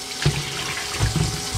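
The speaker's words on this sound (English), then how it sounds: "I got some filtered water coming in." Filtered water runs steadily from a tap into a container while making homemade wine, a soft continuous pour with gurgling bursts as it fills, quiet and close with no talk.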